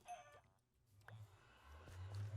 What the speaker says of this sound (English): There are a lot of chickens around here.